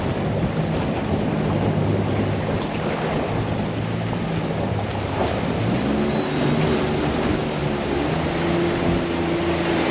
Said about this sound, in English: Well, there's some waves coming.